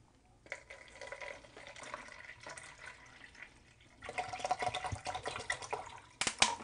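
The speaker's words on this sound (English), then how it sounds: "And we're gonna add some water." Water poured from a container into a salt brine for possum meat, a steady running splash and trickle that grows louder and fuller partway through, ending with a couple of clinks.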